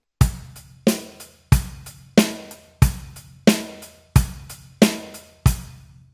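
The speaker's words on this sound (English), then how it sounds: "So our basic eighth note rock beat sounds like this." A basic eighth-note rock beat played on a drum kit, with the bass drum on beats one and three: nine evenly spaced, punchy hits ring out loud and close, each decaying quickly before the next, with no talking.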